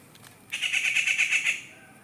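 A bird in the trees lets out one harsh, rapid chattering squawk lasting about a second. It is fairly close and clear against quiet surroundings, with no talk.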